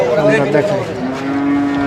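A crossbred bull moos loudly and close by at a cattle market, a long low bellow with a rough, wavering tone that holds steady for about two seconds.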